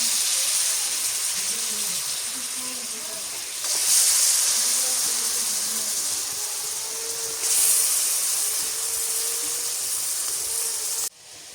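Pieces of beef, seasoned with turmeric powder, hiss and sizzle steadily in a hot pan, a loud broad frying noise that swells twice, with faint voice underneath.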